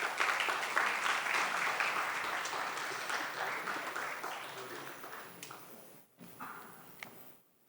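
An audience at a sustainability forum in Manila breaks into a long round of applause, dense clapping that slowly thins and fades toward the end, ending with a few scattered claps.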